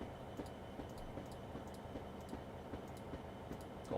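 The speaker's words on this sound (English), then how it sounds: "Got a wheel flat. I can hear the flat." A video game train rolls along with a steady rumble and a regular, repeating clunk from a flat wheel, evenly spaced like a ticking beat.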